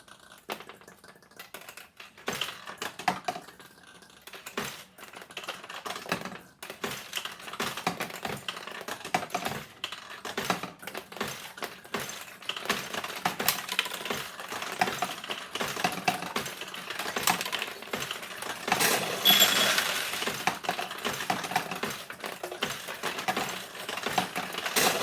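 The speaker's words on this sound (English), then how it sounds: "So this will launch a ball the first time" A 1975 Nishijin Model B ball machine launches balls. It gives a steady, close clatter of small metallic clicks and rattles that grows slightly busier and louder toward the end, with no talking.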